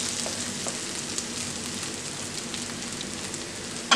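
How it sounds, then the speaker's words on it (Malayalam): Onions and tomatoes sauté in a hot pan for an ivy gourd fry, making a steady, close sizzle with a soft crackle that continues evenly and without talk. "അപ്പം നമ്മുടെ സവാളയും തക്കാളിയൊക്കെ നന്നായി വഴന്നു വന്നിട്ടുണ്ട്"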